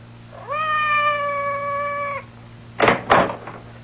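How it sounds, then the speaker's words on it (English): A cat meows outside a door in a 1970s radio mystery drama, one long steady meow rising then held, followed by two sharp door knocks or bumps, over a low background hum with no talking. "Did you hear anything? Outside the door. It sounded like Madame's cat, Francois."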